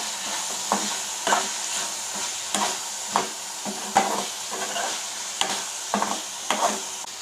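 Small bitter gourds stir-fry in a pan over a medium flame, a continuous sizzle broken by regular scraping strokes of a spatula about once a second, close and fairly loud.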